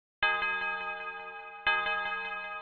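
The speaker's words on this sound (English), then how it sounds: "I just put the church bell as always." Two struck church bell tones, each ringing out with long reverb and delay tails, the second hit about a second and a half after the first, loud and sustained with no voices.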